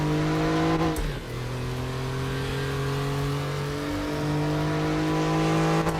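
A very old Porsche race car engine in the RaceRoom racing game drones steadily, with a sharp gear change early on, then revving climbs and holds a loud, buzzing tone.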